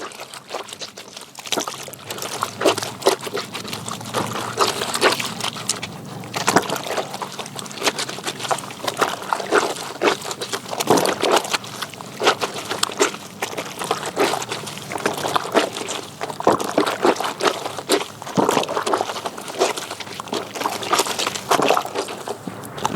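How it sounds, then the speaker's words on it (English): Handkerchiefs are washed by hand in water with homemade liquid soap, giving continuous close sloshing, dripping and wet rubbing throughout with no pauses. "So let me try to wash these handkerchiefs and we see how it forms."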